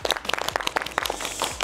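Crisp, distinct handclaps from a small group at a Georgian TV game show during an intellectual-games round, fairly rhythmic and close, about five sharp claps per second that fade into a softer spread of clapping.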